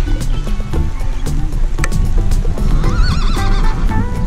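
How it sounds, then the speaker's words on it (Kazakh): Horses whinny loudly nearby, several shrill neighs rising and falling over a busy outdoor background. "Мына жерде жылқылар көп."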